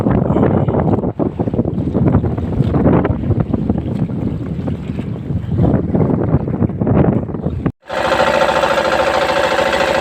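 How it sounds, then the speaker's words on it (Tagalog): Strong, cold wind buffets the microphone in a loud, continuous roar, ending with an abrupt cut to a steadier rushing noise. "Malakas yung hangin, maginaw,"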